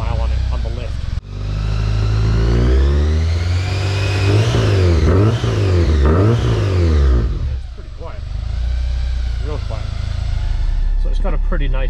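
A supercharged Honda S2000 with a seven-year-old Magnaflow exhaust revs up and down several times, heard close from inside the car, its rising and falling engine note joined by supercharger whine.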